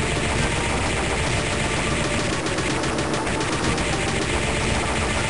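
Rapid attack fire in Castlevania: Aria of Sorrow, a dense continuous stream of game shots that stays loud and steady throughout, with no talking.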